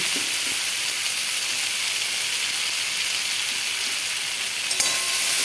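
Ghee sizzling over cooked vegetarian mixed vegetables in a pan, a loud, steady hiss and crackle that holds evenly throughout, close up, with a faint clink near the end and no talking.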